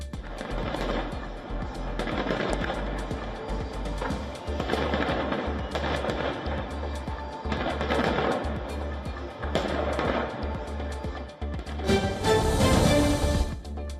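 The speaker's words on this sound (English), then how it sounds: "ushered in the new year with a dazzling firework display over Edinburgh Castle." Repeated bursts of crackling New Year fireworks over Edinburgh Castle pop and bang in waves at a distance, ending in a louder, fizzing crackle.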